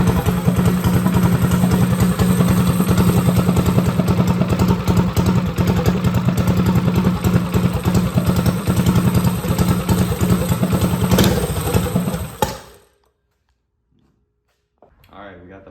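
A Motovox mini bike's small engine runs loudly and steadily with a rattling, clattering idle for about twelve seconds, then cuts off abruptly into silence, with a brief faint noise near the end.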